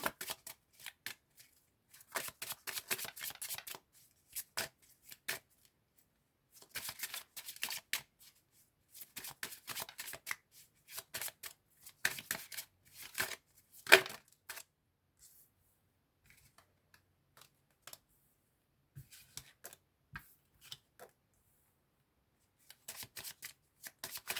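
Tarot cards are shuffled by hand in repeated short riffling bursts separated by quiet pauses, close and soft throughout.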